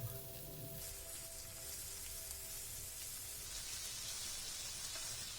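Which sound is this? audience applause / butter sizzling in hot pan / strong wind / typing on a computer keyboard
butter sizzling in hot pan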